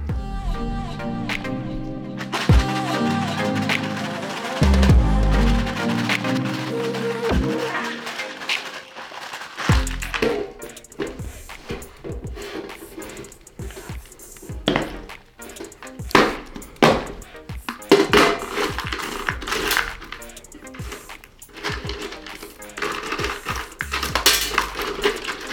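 Knife and small stones with a little Ballistol oil shaken inside an improvised stonewash box, giving a dense, continuous rattling clatter of stones and metal against the container, loud and close, with no talking.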